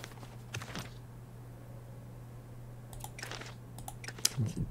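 Mouse clicks from play in the strategy game Millennia, a few sharp separated clicks scattered over a steady low hum, with clusters near the end.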